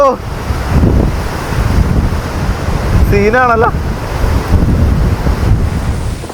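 Strong typhoon wind in Hong Kong buffets and roars loudly and continuously, with a person briefly speaking and a rising whistling tone partway through.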